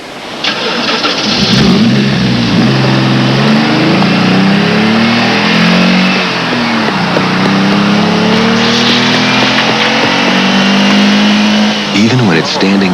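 A fuel-injected, turbo-powered Dodge Daytona Shelby engine starts and revs loudly up close, rising and falling in pitch several times with sweeping whines and a final sharp burst.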